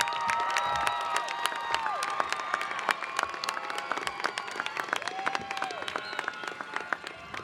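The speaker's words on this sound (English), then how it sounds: "Can you turn and give them a round of applause and thank you?" Audience applause and cheering fill a 2021 graduation ceremony at Vista Peak Preparatory, a steady dense wash of clapping from a large crowd lasting throughout, with scattered shouts rising over it.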